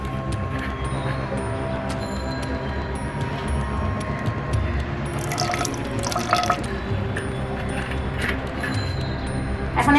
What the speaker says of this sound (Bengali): সয়া সস দিয়ে দিচ্ছি আমি 2 টেবিল চামচ পরিমাণ।